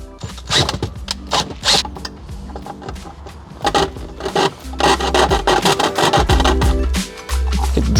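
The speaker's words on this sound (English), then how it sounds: "Then I could cut them with the saw." A hand saw rasps back and forth through a plastic switch panel in repeated close strokes, some short and quick, others longer, in a garage car project.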